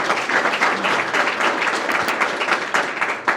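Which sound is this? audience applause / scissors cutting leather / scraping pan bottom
audience applause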